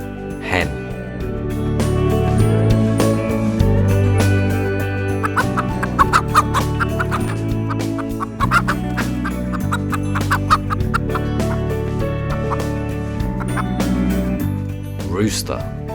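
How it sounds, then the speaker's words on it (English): Hen on a farm clucking, short repeated low clucks in loose bursts scattered through the clip, heard over a continuous music bed. "hen."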